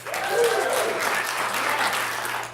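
A cinema audience at the Joy Cinema breaks into loud, continuous clapping with a few cheers near the start, holding steady for a couple of seconds before easing slightly.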